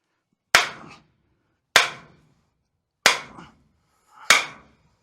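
Four evenly spaced, sharp hammer blows drive a stake into sandy soil, each a loud close crack that quickly dies away, about a second or more apart, with no voices.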